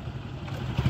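Low steady engine drone of a John Deere 5105 4x4 diesel tractor running in the field, a continuous near rumble that swells slightly toward the end, with no talk.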